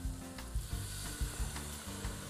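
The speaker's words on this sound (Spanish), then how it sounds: "Vamos a mezclar para que se vaya friendo." Flour and a splash of white wine sizzling and frying steadily in a pan while being stirred, with soft scraping knocks of the utensil, heard up close for a veal escalope sauce.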